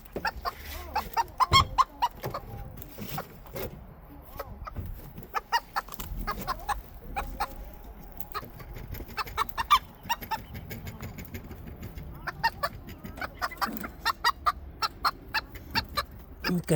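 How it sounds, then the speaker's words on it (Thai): Small bantam chickens from Indonesia clucking close by in repeated bursts of short clucks, with quieter stretches between them. "เนี่ยไก่น้อยนี่มาจากอินโดนีเซีย"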